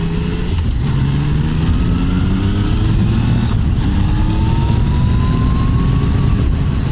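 A 2019 Yamaha MT-09 motorcycle of about 850cc runs while being ridden, with a loud continuous engine drone and a high whine that rises as it accelerates.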